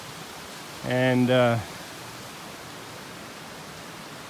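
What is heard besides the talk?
mountain stream flowing water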